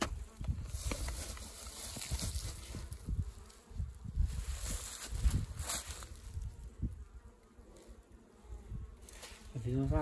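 Apis honey bees buzzing inside a termite mound out in a pasture, a close, swelling drone that rises and falls, with scattered knocks and rustles around it.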